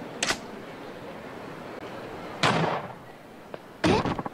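A gunshot cracks out during a Yakuza 0 cabaret cutscene, one of several sharp bangs spread across the stretch, each with a short ringing tail, set against a quiet room ambience.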